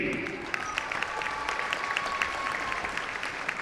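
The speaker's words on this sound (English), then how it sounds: "Let's have another nice round of applause for your 1963 Class N Missouri State Champion Republic Tigers" A crowd in a gym applauds at a boys high school basketball game, a sustained round of loud clapping with a voice over the public address heard underneath.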